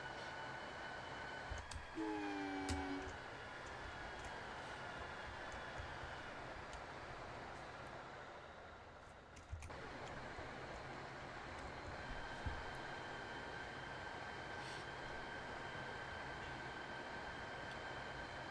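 A New Jersey Transit or Amtrak passenger train on the Northeast Corridor in Train Sim World 6, with a brief horn blast early on over steady rumbling rail noise that carries on to the end.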